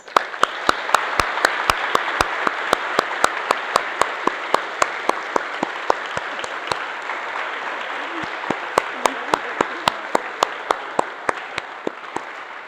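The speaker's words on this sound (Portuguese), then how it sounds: "convido a olharem para a comunidade e a receberem os cumprimentos com uma salva de palmas" A church congregation in Balneário Camboriú applauds a couple during a worship service: a broad wash of clapping held for many seconds, punctuated by sharp, evenly spaced louder claps keeping a steady beat, with faint murmuring underneath.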